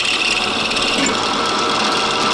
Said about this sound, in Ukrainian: Значить, Сверлим головку чи гайку.